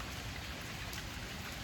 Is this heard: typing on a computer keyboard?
no